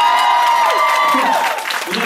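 Studio audience applause mixed with a few cheers, loud and close, with tonal music or sound effects running over the clapping.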